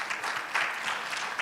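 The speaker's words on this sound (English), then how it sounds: "Please, a round of applause to them." An audience at a money summit livestream in Ghana claps in a brief burst of applause, a dense wash of hand claps at moderate distance.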